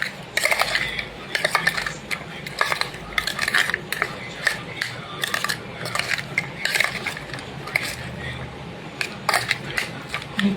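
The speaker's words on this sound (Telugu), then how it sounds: "ఇప్పుడు దీన్ని మొత్తాన్ని ఒకసారి మనం మిక్స్ చేసుకోవాలండి." Spoon clinking and scraping in a bowl while mixing cucumber boat filling with lemon juice, in irregular bursts of light metallic taps and stirring.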